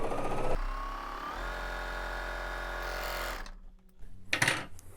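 A Bernina L860 overlocker serger stitching fabric placed wrong sides together, running with a steady loud motor whir for a few seconds before stopping, followed by a few handling clicks.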